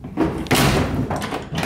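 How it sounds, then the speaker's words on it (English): A 1968–70 Mopar B-body car door handle on a Road Runner, GTX or Charger is worked, giving a couple of close mechanical clunks and rattles with a louder latch thump partway through. "Got the door handle here."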